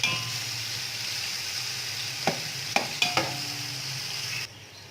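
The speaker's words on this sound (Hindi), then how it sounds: "अब हम इसमें अदरक लहसुन का पेस्ट डाल देंगे और मिक्स करेंगे।" Ginger garlic paste sizzles steadily in a pan with browned onions, with a few sharp utensil scrapes and clicks of stirring near the end before the frying noise drops away abruptly.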